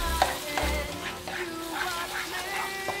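Sauce cooks in a pan while a spoon stirs through it after garlic powder and pepper go in, giving a soft bubbling sizzle with scattered scrapes and clinks against the pan; no talking.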